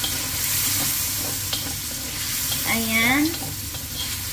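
Bihon noodles with dark soy sauce being stirred in a sizzling pan, with a spatula scraping over a constant fry. A voice speaks briefly near the end.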